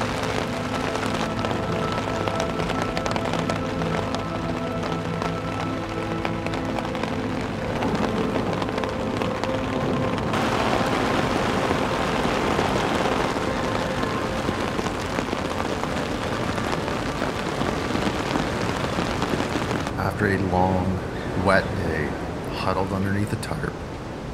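Heavy rain pours steadily during a thunderstorm in the Temagami wilderness, drumming on a tarp shelter with a dense, constant wash of sound throughout.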